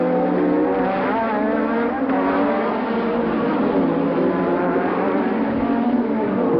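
Formula 1 race cars at the 1984 Dallas Grand Prix, a loud, continuous high-pitched engine roar from several cars racing together, sustained with no break.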